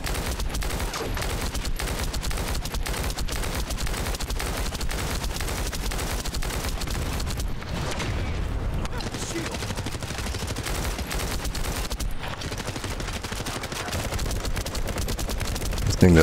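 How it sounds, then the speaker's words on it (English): Enemy gunfire in the looter shooter The First Descendant keeps up as dense, rapid automatic fire for the whole stretch, loud and close, with a voice speaking over it now and then. "What the hell is shooting at me?"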